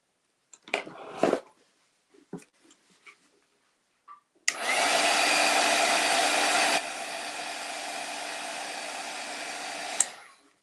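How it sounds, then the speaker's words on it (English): A heat gun drying Mod Podge on a DIY plant pick sign blows a loud, steady rushing roar for about six seconds, then drops to a slightly lower hiss. A few scattered handling knocks and taps come first. "gonna hit it with the heat gun to speed it up a little bit"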